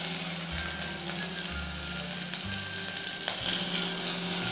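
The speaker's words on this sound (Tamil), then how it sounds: "எண்ணெய் வந்து நல்லா சூடாகிடுச்சு, இப்போ வந்து கருவேப்பிலை போடுவோம்" Curry leaves and onions hitting hot oil while cooking a banana-flower parotta dish, giving a steady close sizzle and crackle with occasional louder pops and low stirring thumps, no voices.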